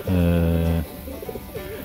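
Racing pigeons coo in a loft during a competition flight, a close, loud sustained coo followed by quieter gurgling calls and background rustle.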